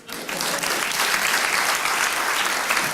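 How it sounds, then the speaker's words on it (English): A room full of people at a startup entrepreneurship event applauds in a dense, even burst of clapping that fills the whole short stretch with no talk over it. "Round of applause again."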